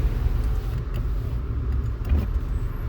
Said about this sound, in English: Just driving home, got some thoughts.